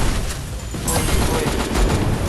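Gunfire and explosions from the battle game Free Fire form a dense, continuous roar of rapid shots and booming blasts, loud and unbroken throughout.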